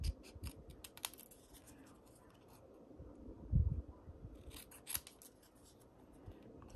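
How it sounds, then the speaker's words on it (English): Scissors snipping out paper pieces for a handmade birthday card, soft close cuts in a loose irregular series, fairly quiet against a low background rumble. "so we can go ahead and cut this out here"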